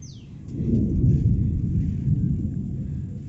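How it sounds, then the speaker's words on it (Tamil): Thunder rumbling before rain, a deep continuous low rumble swelling and fading over a few seconds, fairly loud and alone. "இப்போ இடி இடிக்குது, மழை வருமா என்னன்னு தெரியல."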